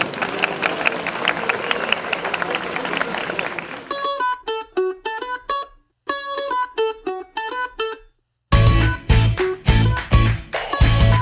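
Audience applause in a historic inn courtyard during a youth gathering's cake cutting, a dense burst of clapping that gives way to music, then returns in louder rhythmic claps.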